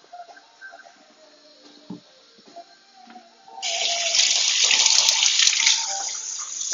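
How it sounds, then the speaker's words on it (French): Vegetables for a Moroccan lamb couscous are rinsed under a running kitchen tap. Quiet clinks and handling come first, then the water turns on and gushes steadily and loudly for the last few seconds. "Je les rince d'abord."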